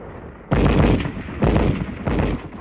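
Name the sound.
machine gun fire in arctic combat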